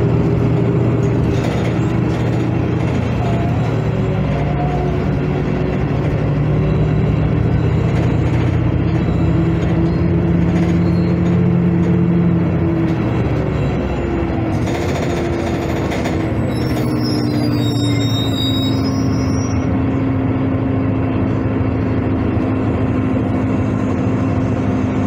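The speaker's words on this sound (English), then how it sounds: "Please hold on. The bus is departing." A Honolulu TheBus city bus on Route 2 through Waikiki pulls away and drives on. The engine drones steadily from inside, its pitch shifting as it shifts gear midway, with brief squeaky rattles later and no talk.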